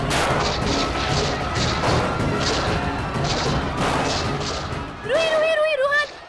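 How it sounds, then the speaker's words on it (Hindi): Rapid bursts of gunfire from a Hindi TV drama, loud and repeated in pulses across several seconds, then giving way to a sharp ringing, warbling tone near the end; no voices. "ये अचानक गोलियों की आवाज कैसे आ गई?"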